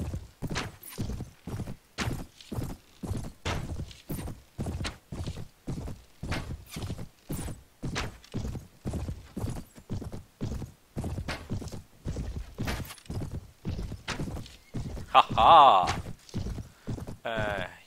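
Rapid, regular hoofbeats of several horses galloping in the video game Mount & Blade, a steady clip-clop drumming throughout at close range, with someone talking and laughing over it and a brief whinny near the end.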